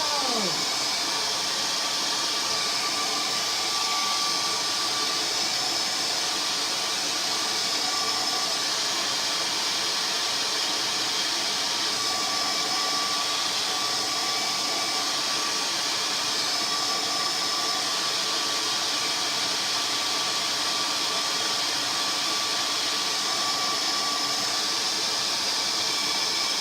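A dryer blows a loud, steady rush of air to dry chalk ink on a t-shirt, a constant close whoosh with no break for the whole stretch.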